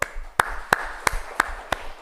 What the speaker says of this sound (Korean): 우리 장로님 박수!